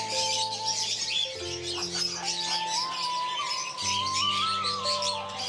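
A pet parakeet calls with sharp squawks and chirps, close and loud, while a steady tonal hum and household noise fill the background.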